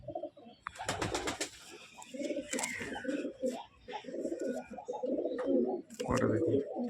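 Close pigeon, a male bird with full feathers and a closed tail, cooing in repeated low rolling phrases with bursts of wing or handling noise, a voice talking over it.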